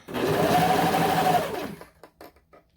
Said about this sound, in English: we're back at my serger